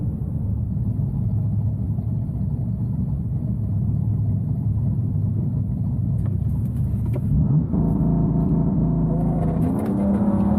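A 700 hp BMW M3 makes a quarter-mile pass at a drag strip, a loud, steady engine roar that swells into a rising acceleration sweep in the final seconds, with no voices over it.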